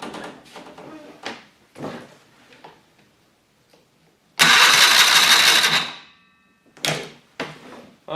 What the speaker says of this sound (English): let's crank it over and see if I still have spark